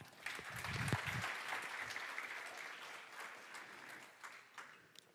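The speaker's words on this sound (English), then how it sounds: "Big round of applause." Conference audience applause welcoming speakers to the stage, a fairly distant, steady wash of clapping that swells early, with a brief low voice near the start, then thins out toward the end.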